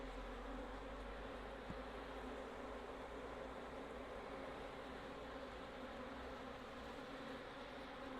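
A dense, steady drone of honeybees from a Caucasian colony around an apiary hive during a split, continuous and even for the whole stretch, close and enveloping with no talking.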